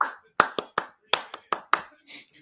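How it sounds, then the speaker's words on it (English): Several separate hand claps ring out close and loud in an uneven rhythm, about eight sharp slaps spread over a couple of seconds, with a short murmur at the end. "I want to see you clapping or something."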